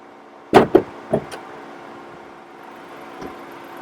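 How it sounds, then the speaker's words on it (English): Hood of a 2023 Ford Bronco Sport Big Bend popped open: a few sharp metallic clunks and knocks in quick succession near the start, then a quiet pause and one faint later thud, close by. "Do you think we should pop this hood and see what's under here?"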